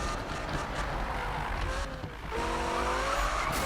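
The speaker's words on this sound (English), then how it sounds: "Of course, we can drift to turn around corners a lot faster." A Lamborghini Huracan drifts through a corner in Need for Speed 2015, engine droning steadily before a rising tire squeal takes over, loud and continuous.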